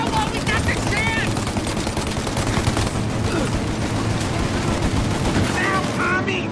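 Enemy guns firing in Mafia: Definitive Edition, dense continuous bursts of gunfire close and loud, with voices shouting over the shooting.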